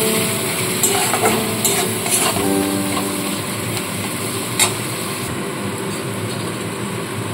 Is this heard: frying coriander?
yes